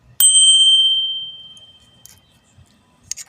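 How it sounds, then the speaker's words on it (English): A single bright bell strike rings out, sharp at onset and then decaying smoothly over about a second, with a few faint clicks afterward. "ring that Taco Bell. It sounds like this."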